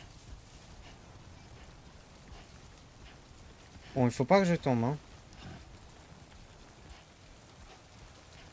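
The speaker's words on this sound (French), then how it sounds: "c'est ce que je pensais, il va pleuvoir" Steady rain falls in the video game Death Stranding 2, a soft constant hiss throughout, while someone speaks briefly in French over it midway.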